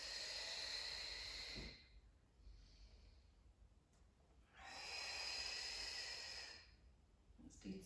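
Two long, breathy exhales during a slow Pilates mobilising exercise, each lasting about two seconds and separated by a quiet pause, close to the listener with no talking.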